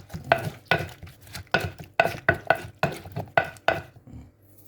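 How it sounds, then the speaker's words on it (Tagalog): Sautéed onions and tomatoes with a little vinegar are stirred in a pan, with rhythmic scraping strokes, about nine bursts in under five seconds, close and clear over a soft sizzle, with no talk. "Yan, inikos-nikos lang siya."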